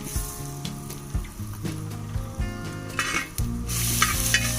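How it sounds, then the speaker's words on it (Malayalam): Cardamom and cloves sizzle in hot coconut oil in a heavy uruli, a steady close frying hiss with soft scraping stirs and faint utensil clinks throughout, no voices. "ഇതിലേക്ക് വെളിച്ചെണ്ണ ഒഴിച്ചു കൊടുക്കാം. ഇതിലേക്ക് ഏലക്ക, ഗ്രാമ്പു"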